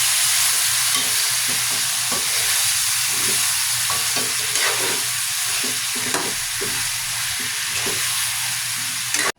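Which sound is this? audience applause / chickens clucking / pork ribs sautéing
pork ribs sautéing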